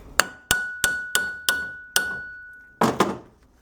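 A hammer strikes the seized rear brake caliper mechanism of an Audi A6 C5, about eight hard metallic blows at an uneven pace. Each blow leaves a sustained ringing tone, with a quick double strike near the end.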